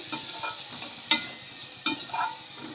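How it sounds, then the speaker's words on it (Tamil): A spiced potato fry is stirred in a pan, with light scraping strokes and soft clinks of the utensil over a low background sizzle, several brief louder scrapes standing out, and no talking. "நல்லா கிண்டி விட்டுறணும் பொடி வந்து கருகிடக்கூடாது"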